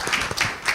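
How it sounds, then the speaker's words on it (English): Audience applause at the AfricArena Cairo Summit 2023 startup stage, a brief burst of scattered clapping from a crowd, moderately loud and fading quickly. "Give a round of applause to SuperCommerce."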